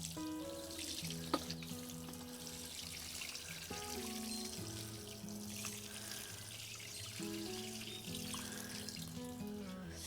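Water splashing and trickling steadily onto freshly planted spring seeds in a vegetable bed, a quiet continuous rush with no talk.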